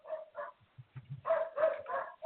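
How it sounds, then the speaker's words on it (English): Dogs bark in short, uneven bursts indoors, a few sharp barks mixed with whines, moderately loud and near. "Sorry, my dogs are barking."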